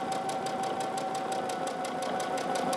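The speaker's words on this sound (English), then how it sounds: "And then I'm going to sew it down." A sewing machine stitching down the hem of a cloth napkin, running at a steady speed with a fast, even needle clatter over a constant motor hum, close and continuous with no talking.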